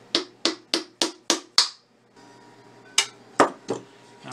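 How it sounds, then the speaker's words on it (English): A horseshoe hammer strikes a steel piece set on the floor while building a canjo: six quick, ringing metallic blows in steady rhythm, a short pause, then four more hits, loud and close. "I'm gonna take my horseshoe hammer."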